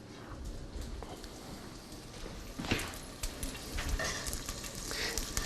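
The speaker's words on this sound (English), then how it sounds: "So you can hear those are sizzling already." Steady, crackling sizzle of asparagus pan-roasting in a hot frying pan, with a few louder pops and light utensil clicks, close up and with no voices.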